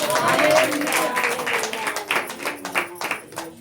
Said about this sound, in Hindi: ताली बजाकर कहें हालेलुया